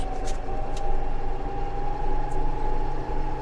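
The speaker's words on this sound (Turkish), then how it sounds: "Şimdi bakınız devrini alsın traktörümüz." A Deutz Fahr 5105 tractor engine drones steadily at higher revs while driving at about 22 km/h on a slight incline, a loud, close, even hum with a few brief higher-pitched squeaks, and no one talking.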